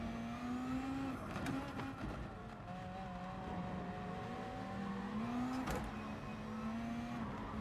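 A race car in Gran Turismo Sport holds a steady, droning engine note that rises and falls slightly in pitch, loud and close throughout, with a brief extra whoosh near the middle and no talking.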